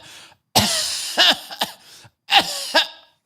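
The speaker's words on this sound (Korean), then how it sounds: "기침하는 사람도 나올 거예요." A person coughs close by in several sharp, harsh bursts, some grouped in pairs, with short silent gaps between them.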